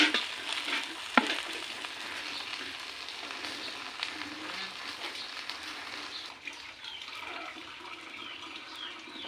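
Small shrimp dry-fry in a pan over an open fire with a continuous close hiss and crackle, one sharp clack early on, and a slightly softer sizzle toward the end.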